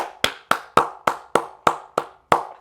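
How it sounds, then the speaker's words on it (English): Sharp, evenly spaced hand claps, about nine in a steady rhythm, close and distinct, each with a short ringing tail. "Round of applause."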